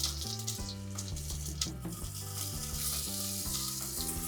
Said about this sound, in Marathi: आता याच्यात आपण कांदे घालणार आहोत